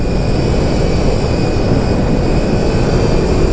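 Voge 350AC sub-400cc motorcycle on a B-road, revving in fifth gear: a steady, loud engine drone blended with wind rush, continuous with no talk.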